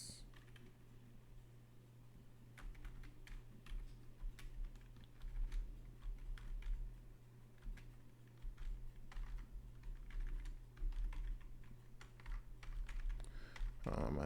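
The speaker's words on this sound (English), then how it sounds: "My typing is horrible today" Steady, rapid clatter of computer keyboard keys during C++ programming, individual clicks close and fairly quiet over a constant low electrical hum, with brief pauses between bursts of typing.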